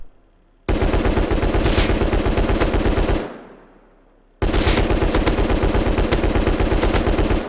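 Two long bursts of rapid automatic submachine-gun fire in Rust, loud and close, separated by a fading echo and a short pause.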